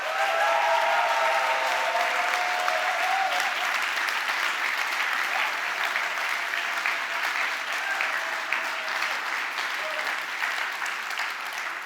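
Standing audience at a political debate event applauding in a long, steady round of clapping that fills the room, with a faint murmur of voices underneath.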